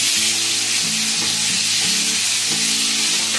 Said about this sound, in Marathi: तर मी भाज्या फ्राय करायच्या आहेत म्हणून.